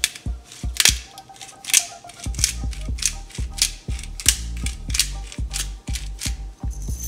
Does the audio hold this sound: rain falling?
no